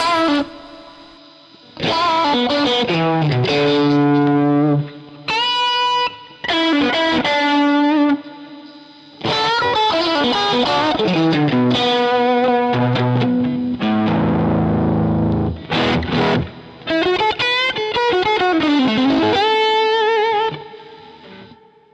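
Overdriven electric guitar through a 70s/80s Marshall amp model, crunchy tone, plays a melodic lead with bends and sustained notes, brief pauses between phrases, loud and close.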